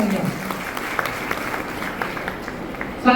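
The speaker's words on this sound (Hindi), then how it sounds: "पुनः जोरदार तालियां।" Loud applause fills a meeting hall during a networking marketing gathering, a dense steady clatter of many hands lasting about three seconds, with a few sharper claps standing out and a brief louder burst at the very end.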